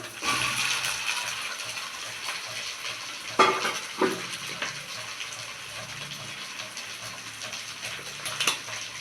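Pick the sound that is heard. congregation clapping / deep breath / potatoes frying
potatoes frying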